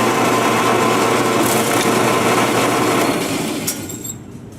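A drill press running in a school shop, a steady loud mechanical whine and hum that holds for several seconds, then dies down toward the end as the machine stops.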